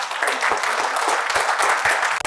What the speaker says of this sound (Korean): 이렇게 소개해 주신 분들에 대해서 박수 한번 주십시오